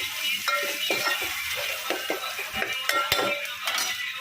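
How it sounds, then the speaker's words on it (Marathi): Garlic tempering with coriander and turmeric is poured into varan dal, giving a low sizzle under constant stirring, with a spoon repeatedly scraping and clinking against the pot. "वरणाला फोडणी जाते"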